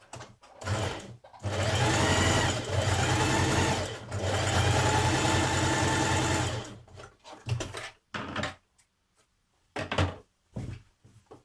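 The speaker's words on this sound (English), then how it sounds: "Now we're going to stay stitch round the back neck. So again, a line of stitching a few millimetres away from the neck edge." A home sewing machine staystitches around the back neck of a New Look 6602 dress, running in two loud sustained bursts of rapid stitching, then short stop-start bursts with brief pauses between.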